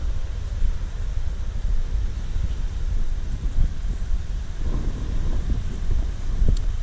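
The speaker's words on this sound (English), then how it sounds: "Now the trees are blowing a little bit." Steady wind from a thunderstorm gust front rushing and gusting through trees, a continuous broad roar with rumbling buffeting on the microphone, no voices.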